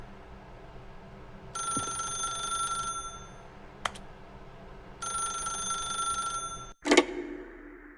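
Telephone ringing in The Stanley Parable video game: two loud electronic ring bursts of about 1.5 seconds each, separated by a pause, with a brief click between and a sharp knock at the end.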